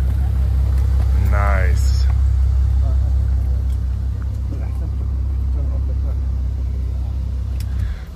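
A stolen Bentley car's engine runs close by with a steady low idle rumble throughout, while a person speaks briefly over it.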